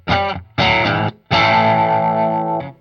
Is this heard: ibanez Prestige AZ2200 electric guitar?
yes